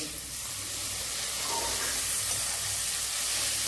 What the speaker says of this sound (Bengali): এবার আমি এখানে টমেটোটা দিলাম। এটা একটু ভেজে নিতে হবে, একটু নরম হবে।